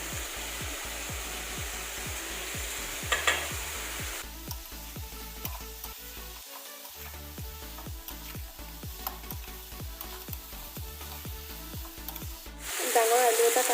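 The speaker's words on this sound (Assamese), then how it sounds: "এইখিনি মই 5-6 মিনিটমান এনেদৰে লৰাই ভাজি লৈছোঁ ভালদৰে" Onions and chilli stirred and fried in a pan for a local chicken dish, a steady close sizzle with repeated scraping strokes of the spoon, a brief louder burst near the end.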